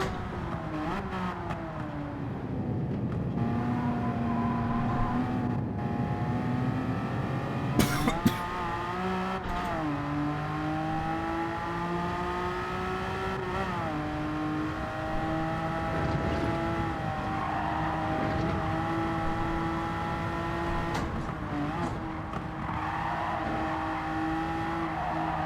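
A Porsche 911 GT3 (996) from 2001 races in a driving video game, its engine droning continuously with rising and falling pitch through gear changes and revs, loud and sustained throughout.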